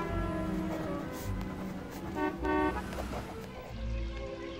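Busy traffic rumbles close by, with a few short car horn toots rising above the steady engine noise.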